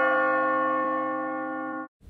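A single church bell strike rings out loud and sustained, its tone slowly decaying for nearly two seconds before cutting off abruptly.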